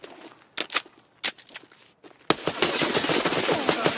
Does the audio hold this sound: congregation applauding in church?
no